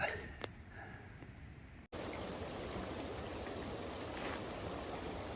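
Rain falls steadily on a tent on a morning on the Arizona Trail, a dense, even hiss that continues after a brief cut, with a few faint patters early on.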